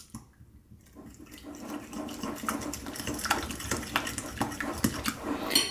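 A spoon stirs egg into melted chocolate in a bowl, making a soft, continuous wet scraping and sloshing that starts after a brief silence, quiet and close.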